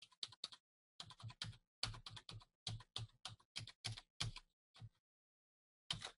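Credit card number typed on a computer keyboard: quiet, crisp keystrokes close to the mic in quick uneven bursts, with short gaps and a longer pause before a final pair of taps.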